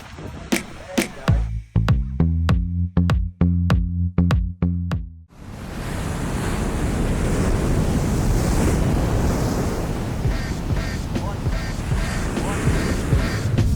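Surf breaks at a new man-made wave pool in Victoria, a loud continuous roar of water mixed with wind buffeting the microphone, after several sharp rhythmic thumps at the start.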